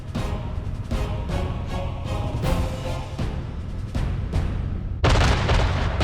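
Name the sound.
artillery and rocket launcher barrage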